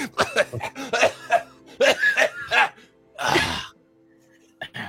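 A human voice imitates a creature retching and coughing up a partially eaten squirrel, with a series of short, choppy gagging bursts followed by one longer, harsh hacking cough, then a brief sound at the end.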